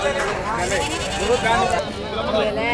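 Sheep bleat repeatedly amid a busy crowd at a livestock market in Dhone, with people talking and bargaining loudly over the animal calls.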